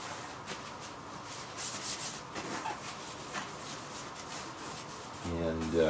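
Quick rubbing strokes of a cloth wiping down custom computer case panels with surface cleaner, a steady close scrubbing texture with soft swells, ending with a brief tonal noise.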